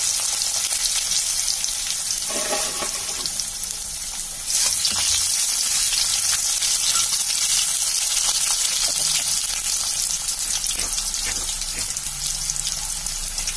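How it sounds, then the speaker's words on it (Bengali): Potatoes fry in hot oil with panch phoron five-spice, the start of a mustard-paste chalai data shak. A steady, dense sizzle runs throughout and grows louder after a few seconds, with no talking. "তেলটা গরম হচ্ছে, এবার আমি 5 ফোড়ন দিয়ে দেবো। আলুগুলো দিয়ে দিলাম আগে।"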